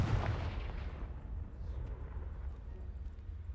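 Confringo spell explosion in the Hogwarts Legacy video game, a deep, rumbling blast that starts loud and decays into a low, fading roar over a few seconds.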